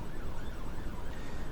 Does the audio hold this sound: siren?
yes